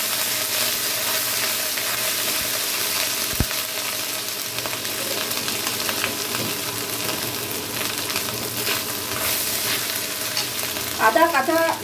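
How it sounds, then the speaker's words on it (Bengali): Crushed green chilli and ginger fry in a pan with a steady, loud sizzle that lasts throughout, while occasional stirring scrapes and a brief clatter sound near the end. "আদা কাঁচা গন্ধটা না যাওয়া পর্যন্ত একটু ভেজে নিচ্ছি বন্ধুরা।"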